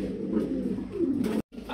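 A pair of large fancy Gazi Modarna pigeons coos up close, low rolling calls running continuously, broken by a brief near-silent gap before resuming.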